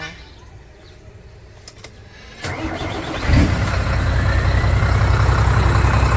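A Fuso truck with a 6M60 240 hp diesel engine cranks and fires at about two and a half seconds, then settles into a loud, steady, rumbling run that grows fuller and stays strong to the end.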